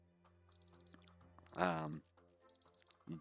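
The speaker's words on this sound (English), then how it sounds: "But you heard the timer, everybody." A timer alarm from the Startup Company software developer tycoon video game, ringing in short, repeated high beeps before and after a brief burst of talk, moderately loud over the game's quiet background.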